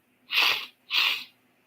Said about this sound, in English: I'm trying to suppress a very, very big sneeze